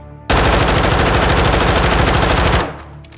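A Vaznev-9K submachine gun in Modern Warfare 2 fires one loud, unbroken rapid-fire burst of about two and a half seconds. The burst starts abruptly, then cuts off into quiet.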